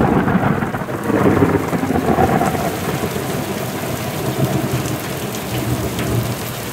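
Steady heavy rain pours throughout, with low rumbling thunder rolling underneath; a dense, continuous storm with no voices, in a video game.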